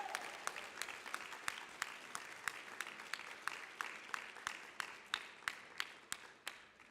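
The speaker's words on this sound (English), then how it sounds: "Please give them a round of applause." Applause from the audience at a Boston youth recognition ceremony, dense and steady at first, then thinning into a few distinct, separate claps toward the end.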